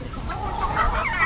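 Chickens cluck close by at a farm where gamecocks are kept, a steady run of short calls with a brief crow-like rise near the end, over low background rumble.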